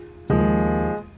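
A piano sounds a single low chord from a tune, held for well under a second before being cut short, played alone with no voice.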